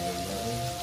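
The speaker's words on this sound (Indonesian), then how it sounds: "Soalnya hujan luar ya." Rain falls outside, a soft, steady patter heard from indoors and alone for a brief moment, with no voices.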